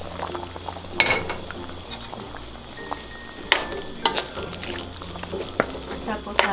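Pork and potatoes bubbling in a pot over steady cooking noise, with a few sharp clatters of utensils against the pot and a low hum underneath.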